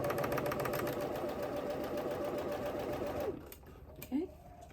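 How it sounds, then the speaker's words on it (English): A sewing machine runs steadily at close range, stitching a long seam up a summer dress with a 5/8 seam allowance, then stops near the end, leaving a couple of brief handling noises. "we're going to stitch all the way up this dress"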